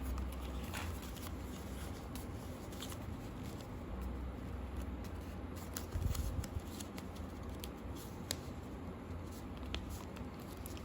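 Paper being folded, squashed and creased into an origami jumping frog, heard as steady close-up rustling and crinkling with a few sharper crackles and one louder crunch midway, with no voices.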